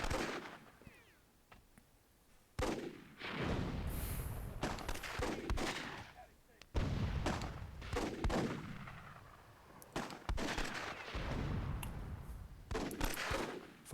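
Sharp explosive blasts and gunfire-like bursts from a Myth II Soulblighter WWII-mod battle, where an RPG round strikes an enemy cannon; several loud impacts arrive in irregular clusters over a continuous rumble.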